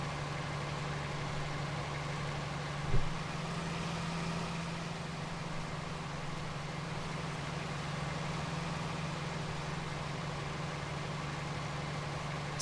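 A 1973 Ford F350 Super Camper Special truck engine idling in Farming Simulator 19, a low steady drone held the whole time with one brief thump early on, alone with no talk.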